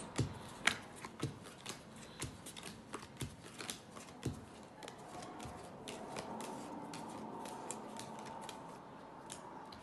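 Playing cards dealt and sorted into piles during a card trick: soft crisp snaps and flicks, some louder slaps, in an irregular run close by over a low murmur of background hiss.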